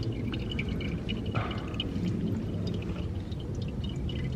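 Engine oil pours steadily from the sump of a Ford Fiesta ST180 into a catch pan during a DIY oil change, a continuous close liquid gush with no talking.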